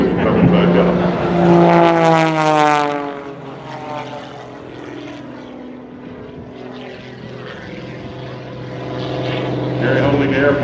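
An MX-2 aerobatic propeller airplane roars close by at an airshow, its engine pitch sweeping sharply upward through a tail slide, then settling into a steady drone before swelling louder again.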